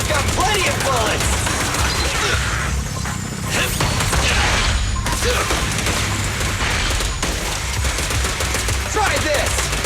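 Gunfire in Zenless Zone Zero: dense, rapid bursts of shots rattle loudly and continuously, with mechanical clatter and impacts layered in and a brief lull midway. A voice speaks over the firing.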